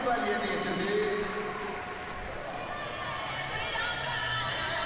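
Fans in an arena cheer a gymnast's high bar dismount with a steady, broad roar of crowd noise that holds throughout and slowly eases off. A commentator talks over it.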